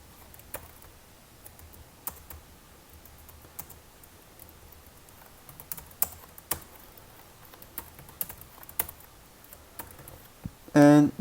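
Someone types on a computer keyboard while coding, producing scattered soft key clicks and taps at an uneven pace, quiet and close, with a brief louder burst at the very end.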